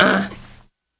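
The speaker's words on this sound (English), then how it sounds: "this is the coughing, grunting kid" A baby's brief, strained throaty grunt with a rough, cough-like edge, close and fairly loud, then silence.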